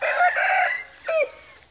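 Aseel rooster crowing close by, a short two-part call with a higher opening phrase and a brief rising end.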